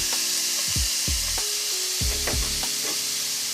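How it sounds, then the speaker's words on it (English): Onion sizzling in hot olive oil, a bright continuous hiss with several low thuds and scraping stirs as pieces drop and are moved around the pan, close up with no talking. "Now I'm going to add in my onion"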